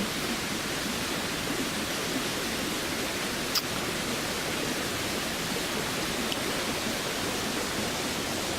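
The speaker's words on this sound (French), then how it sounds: "le bruit qu'on entend inconsciemment de l'eau" Constant broadband rushing of flowing water, steady and unbroken like a nearby stream, with no voices.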